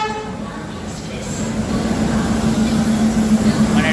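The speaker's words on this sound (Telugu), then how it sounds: "ట్రైన్ అదే వచ్చేసి." The Ajanta Express pulls into a station platform, a rolling rumble that grows louder over a few seconds, with a faint sustained tone riding above the rail noise.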